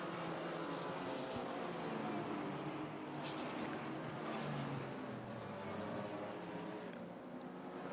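Race car engine in Assetto Corsa drones steadily and loudly throughout, a dense continuous roar that swells and eases slightly with the throttle, with no pauses or talk.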